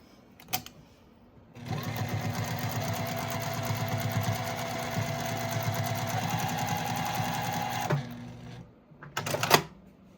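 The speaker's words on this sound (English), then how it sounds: "And then we're going to stitch a 1/4 inch here." A sewing machine stitches a quarter-inch seam across a zippered pouch with its metal zipper tab facing up, running in a rapid, even clatter for about six seconds, with short bursts of handling noise before and after.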